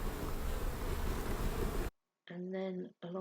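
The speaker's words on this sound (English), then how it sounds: "This is where the bees come into the hive" Bees at the entrance of a slatted beehive, a steady, close, dense buzzing that fills the opening seconds before stopping abruptly, followed by a person speaking.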